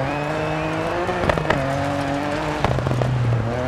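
A rally car in Dirt 4 drives hard through a series of curves, its engine droning loudly, then braking with short bursts of tire scrub and gravel crunch before the engine pulls again.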